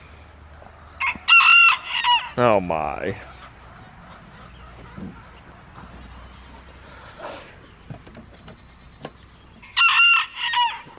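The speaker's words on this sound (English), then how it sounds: "There's that crazy little rooster." A rooster crows several times on a noisy farm with a dog around, the loud, near calls ringing out in separate bursts, with a short voice and quieter background sounds between them.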